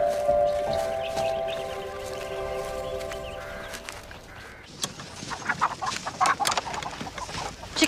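Chickens cluck in a farmyard, a few nearby hens giving repeated short clucks that grow busier and louder toward the end over a steady background hum.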